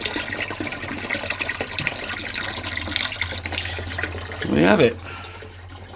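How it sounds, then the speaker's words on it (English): Pump pushing water from a bucket into an aquarium, a steady gurgling pour with a brief louder rush near the end, close by, while a person speaks briefly. "we are going to pump some water in right now"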